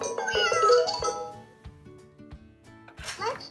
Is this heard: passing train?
no